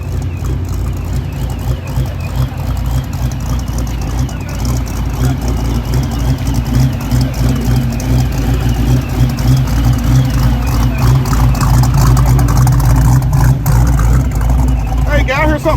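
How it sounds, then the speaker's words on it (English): A muscle car idles with a steady, deep, close engine rumble, and a thin, wavering whistle from a failing power steering pump rides above it throughout. "I heard something whistling out of this car. What is that whistle? Bad power steering pump."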